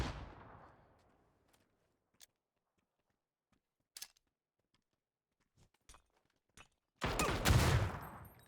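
PUBG gunfire from a saw and minigun: a few sharp isolated shots spaced apart, then a loud sustained burst of automatic fire at the end, preceded by a decaying rumble.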